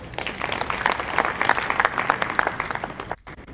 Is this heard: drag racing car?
no